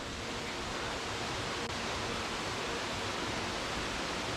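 A waterfall in Panama roars steadily and close, a dense broadband rush of falling water that stays constant throughout with no voices.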